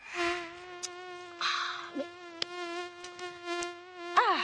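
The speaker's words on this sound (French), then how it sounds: "c'est toujours moi que le moustique pique" A tiger mosquito buzzes with a thin, steady high-pitched whine close by, its pitch wavering slightly and swooping near the end, with faint clicks and rustles around it.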